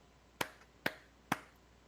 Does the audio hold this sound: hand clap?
yes